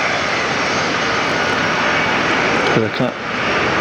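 Airliner landing at Fort Lauderdale airport, a steady loud engine roar filling the whole stretch, with a brief spoken remark near the end.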